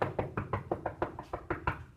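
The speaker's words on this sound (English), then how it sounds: "I can tell that there's wood on the other side of that wall just by knocking on it" A hand knocks on a wall over a wooden stud with about ten steady, evenly spaced raps, close and dull.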